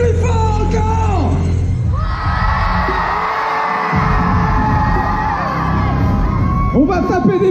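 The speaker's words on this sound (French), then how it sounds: "Alors on va gueuler plus fort encore." A crowd at a cosplay parade during Pict Asia 2023 in the Poitiers exhibition hall yells, whoops and bellows loudly in a sustained roar, with individual voices rising out of the mass.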